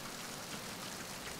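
Rain patters steadily on a ship's deck in Metal Gear Solid 2, a dense, even hiss of falling drops without pauses, fairly soft and alone.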